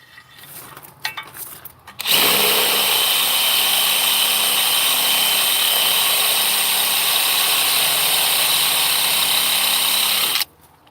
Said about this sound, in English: This drill bit is a little suckier than the other one.